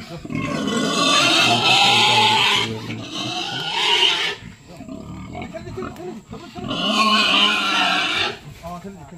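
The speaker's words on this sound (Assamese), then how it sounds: "মাত্ৰ ছমাহ হৈছে গোটেইকেইটা গাহৰি চাই থাকক কিমান ডাঙৰ ডাঙৰ হৈছে ছমাহতে" Large six-month-old pigs on a pig farm squeal loudly and close by in three long, harsh bouts separated by short gaps of grunting.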